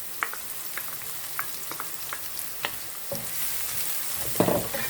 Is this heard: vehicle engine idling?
no